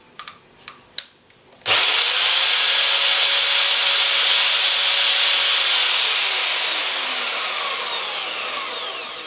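Several clicks, then a Scheppach MBS1100 bandsaw spins up to high speed with a loud, high, steady whine. It keeps running and fades slightly toward the end.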